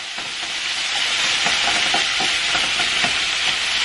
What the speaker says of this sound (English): make sure this is nice and stirred a little bit